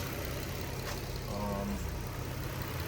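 A 2004 Infiniti G35 AWD idles steadily after starting, a low even engine hum close by with a brief faint whine partway through.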